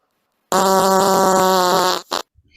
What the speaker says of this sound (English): I wish I'd have gotten a bigger fart sound from him